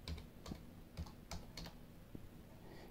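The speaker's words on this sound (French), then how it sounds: "vous appuyez sur la touche Supre du clavier et vous mettez, par exemple, valeur" Keys on a computer keyboard are tapped in a short, irregular burst of soft clicks, close and quiet, with no talking.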